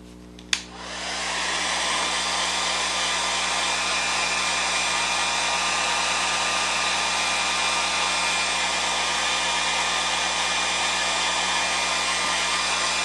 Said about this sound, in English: Let me just dry that for a minute.